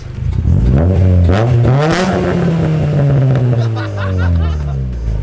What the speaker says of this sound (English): Give her a couple of little revs, man.